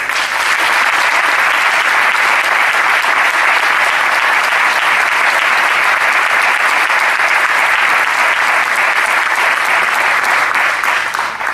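Sustained applause from a crowd at a tribute ceremony honoring José Hormigo González, a fighter for freedom and democracy, dense and steady clapping at full level from start to finish with no voices.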